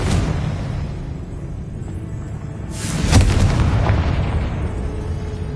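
A Confringo blasting spell detonates in Hogwarts Legacy with a heavy, booming explosion about midway, its rumbling blast and debris tail fading slowly over sustained low battle noise.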